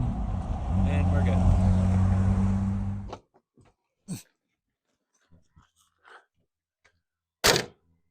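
A 1962 Ford Ranchero engine roars loudly and up close for about three seconds, then cuts off, leaving near-silence broken by a few short clicks and soft bursts.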